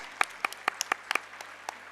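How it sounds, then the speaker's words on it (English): Sparse hand claps from a small audience at a school annual function, about nine distinct crisp claps in an irregular rhythm, fairly close and moderately quiet over a faint steady hum. "So big clap for that."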